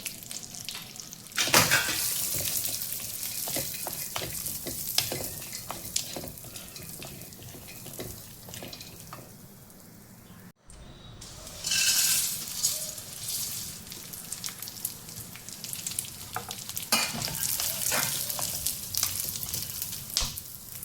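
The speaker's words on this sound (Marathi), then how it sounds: "इकडे काजूही टाकते, काजू आणखी पिस्ता तोही भाजून घेऊया छानपैकी।" Almonds, cashews and pistachios are dry-roasted in a pan and stirred, giving continuous close scraping and rattling with bursts of louder clatter.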